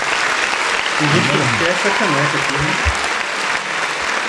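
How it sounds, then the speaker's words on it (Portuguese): Audience applause during a rock talk show, a continuous bed of clapping running under close speech, with a few distinct thumps near the end. "uma salva de palmas para Rariel e Henrique"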